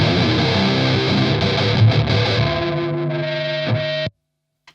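An electric guitar runs through a fuzz pedal in a loud, saturated, sustained roar of heavily distorted chords that rings out and then cuts off abruptly into silence.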